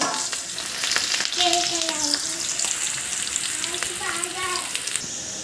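Onions and green chillies fry in hot oil for a fish curry, giving a steady close sizzle with light crackle and occasional stirring scrapes throughout.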